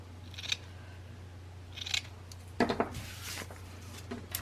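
Scissors snip through the edge of a piece of burlap for a mixed-media craft: a few crisp, close cuts spaced a couple of seconds apart, with a low steady hum underneath and no talking.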